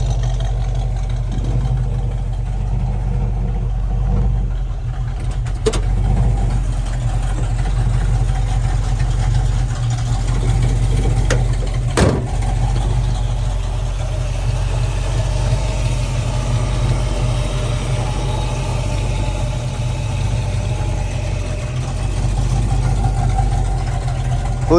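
Close, steady idle from the exhaust of a 1967 Ford Mustang with a 302 small-block V8, a deep continuous rumble holding even, marked only by a couple of brief sharp clicks.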